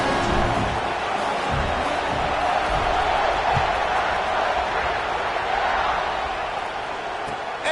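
A stadium crowd in a college football video game fills the air with a continuous broad roar that stays loud and even throughout, and no announcer voice rises above it.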